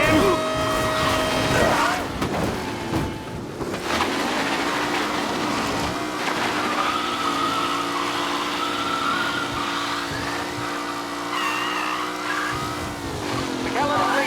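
Race cars in the video game Mafia 1 Definitive Edition, with engines roaring in a loud sustained whine and tires squealing as the pack races close together. Bursts of shifting pitch sit over a continuous engine drone.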